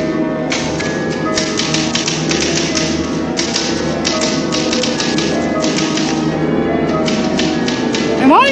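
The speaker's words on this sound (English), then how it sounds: "Look at me, I'm typing." A cartoon typewriter clatters in steady rapid bursts of keystrokes, loud and continuous, with a brief rising whistle-like tone at the very end.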